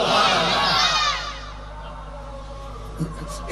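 A crowd at a Bangla religious sermon roars back in unison for about a second, loud and close, then fades to a low murmur and hall hum.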